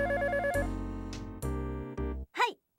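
Telephone ringback tone heard while dialing a number in the Dreamcast detective game Tantei Shinshi DASH!, a few repeated electronic rings followed by short game sounds, with no talking.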